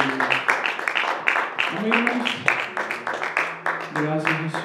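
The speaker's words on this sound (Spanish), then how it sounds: "Dale un aplauso al que vive." A church congregation claps in quick, uneven bursts while raised voices call out over the applause.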